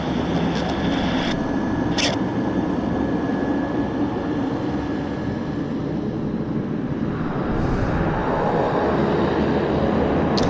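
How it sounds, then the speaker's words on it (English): A Saab 340 turboprop run by Pacific Coastal passes at Vancouver Airport, giving a continuous, loud broadband engine and propeller roar that stays steady throughout, with no talk. "there goes the Westjet. It's operated by Pacific Coastal, actually, this Saab 340."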